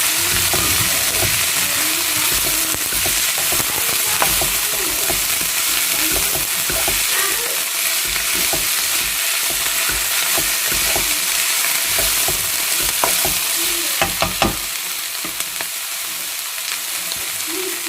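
Vegetables for a vegetarian spaghetti stir fry sizzle steadily in a hot pan, with repeated scraping and clattering stirs, loudest toward the end, and no voices.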